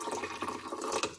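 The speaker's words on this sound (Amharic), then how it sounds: "ውዶች የምፈልገውን ያህል መጠን ውሃ እጨምራለሁ።" Boiling water being poured for fenugreek tea, a short close gurgling and splashing pour with small drip-like bursts, heard alone without speech.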